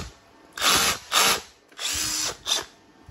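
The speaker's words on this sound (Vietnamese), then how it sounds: "Mấy con khoan này mua cũng phải hơn triệu" A brushless cordless drill runs in four short bursts of about half a second each, with quiet gaps between them. Each burst is a close, high whir that starts and stops abruptly.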